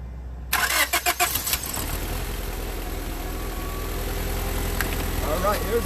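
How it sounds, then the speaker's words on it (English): A car engine with a known rough-start problem, being brought back into service after a coolant refill, cranks in quick uneven bursts, then catches and settles into a loud, rumbling idle close by. "there's that rough start we've been having"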